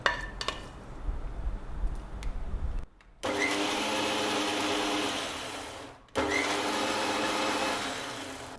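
A mixer grinder blends a cooled onion mixture in its jar, running in two steady whirring bursts with a short stop between them and rattling sounds before it starts, close and fairly loud.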